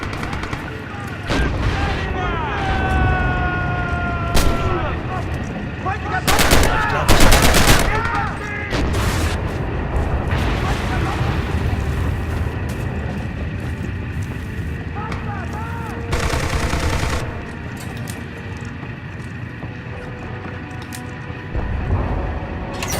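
Gunfire in the World War II shooter Red Orchestra 2, set around a gun factory at Stalingrad: scattered single shots and bursts crack through a busy battle din, with voices calling out over the fighting.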